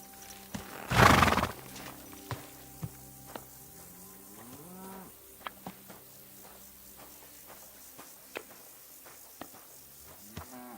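A horse in Kingdom Come: Deliverance II gives one loud, close whinny near the start, followed by a steady run of clip-clopping hooves and scattered sharp knocks.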